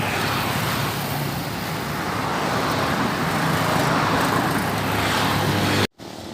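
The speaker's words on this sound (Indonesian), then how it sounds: "Itu bus rapidnya dengan Navin Arjuna teman" A Sumatran intercity bus passes on the east Sumatra highway at Pandau, Marpoyan: a loud, steady roar of engine and tires over traffic noise for several seconds, ending in an abrupt cut.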